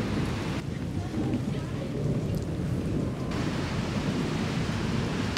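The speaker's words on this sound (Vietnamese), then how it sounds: "Mưa hoài không tạnh luôn." Steady rain falling at a quiet, deserted cemetery, a continuous even hiss with low rumbling underneath, no voices.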